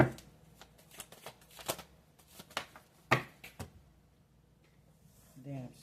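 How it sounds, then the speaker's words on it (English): Tarot cards are shuffled and scattered close by, with quick riffling flutters and sharp slaps of cards landing, while a person speaks softly nearby. "we do got cards flying all over"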